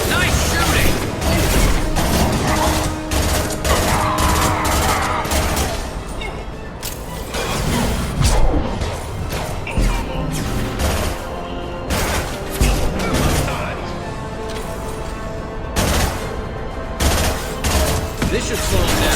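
Cannons fire in a video game battle, a dense, loud barrage of booming shots in rapid irregular bursts that continues with only brief gaps throughout.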